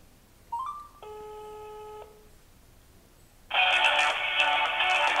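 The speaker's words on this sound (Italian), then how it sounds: "possiamo tranquillamente chiamare il servizio di segreteria Vodafone. Mettiamo poi la telefonata in viva voce." A Samsung Galaxy S4 Mini on speakerphone calls Vodafone voicemail: a rising beep, a steady multi-tone signal lasting about a second, a quiet gap, then a louder buzzing ring tone that continues to the end.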